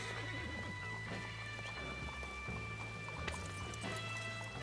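A horse whinnies over a steady background hum, with soft clip-clopping hooves and faint ambient noise throughout. A horse in the video game Red Dead Redemption 2.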